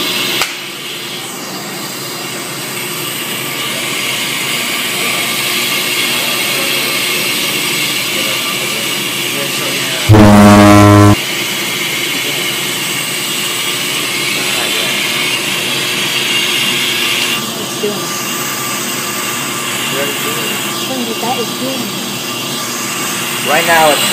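A brake lathe turns a brake rotor, cleaning debris off its surface with a steady loud mechanical whir and whine that runs throughout, briefly interrupted by a harsh burst near the middle, with a person talking over it.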